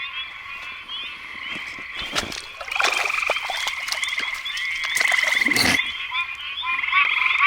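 A dense chorus of frogs croaks loudly and continuously, with overlapping rattling trills swelling through the recording.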